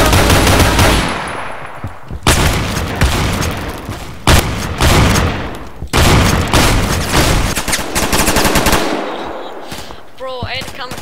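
Shotgun fire in the Roblox shooter Phantom Forces: loud, near blasts and rapid bursts of gunfire repeat for several seconds, with brief gaps between volleys and voices faintly underneath.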